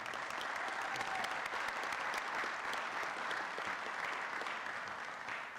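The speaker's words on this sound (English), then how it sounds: "Let's give him one more big round of applause." Applause fills a city council meeting chamber, a steady, even wash of many hands clapping for several seconds at a moderate level, easing slightly near the end.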